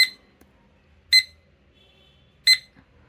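A digital study timer's alarm gives three short, sharp, high-pitched beeps at even intervals, close and clear against near silence.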